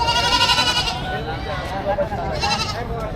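Goats bleat in wavering cries close by at a livestock trading market in the Philippines, two or three calls overlapping with people talking in the background.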